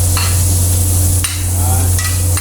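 Garlic and onion frying in butter in a pan, a steady sizzle with occasional light stirring scrapes, no talking.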